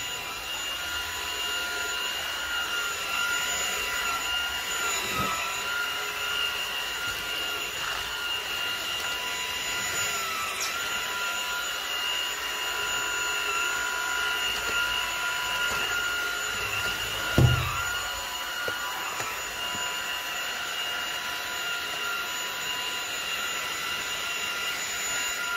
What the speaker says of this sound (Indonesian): Jadi dengan menggunakan vacuum cleaner ini,